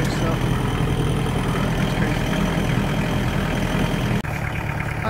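A small tractor carrying a big bale on a farm runs with a loud, steady engine rumble close by, chugging continuously and briefly dropping near the end, as a voice speaks over it.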